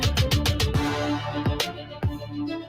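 A loud, dense music mix blends a drill and trap beat with orchestral strings and bagpipes. Punchy drum hits and sliding bass land under sustained droning tones, with no talking.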